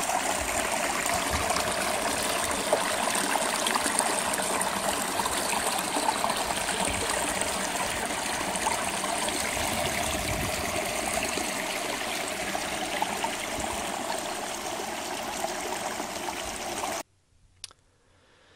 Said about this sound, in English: Another brook we cross over.